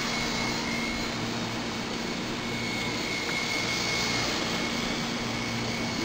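A Hirobo Quark RC helicopter flies on a calm day on a fresh 500 mAh battery, giving a steady, continuous whine and buzz of rotor and motor that holds even and fairly close throughout, with no talking.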